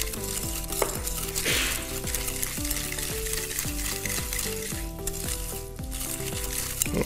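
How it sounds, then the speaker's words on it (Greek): Melted butter and sugar being beaten together in a bowl produce a continuous, close scraping and swishing that holds steady with no pauses, over a repeating low tonal backdrop and with no voice. "Βάλαμε μαζί βούτυρο, ζάχαρη, λιωμένα και τα χτυπάμε καλά"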